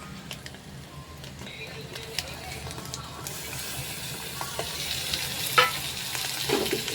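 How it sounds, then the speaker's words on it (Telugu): Spice paste going into frying mutton keema in a pan, a continuous hissing sizzle with occasional spoon scrapes that swells louder toward the end, no talking. "ఇప్పుడు మనం మిక్స్ చేసుకున్న పేస్ట్ని వేసుకోవాలి."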